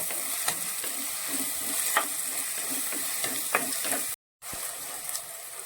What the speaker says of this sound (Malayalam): ഉള്ളിയും പച്ചമുളകും ഇഞ്ചിയും ഇട്ട് നന്നായിട്ട് യോജിപ്പിക്കാം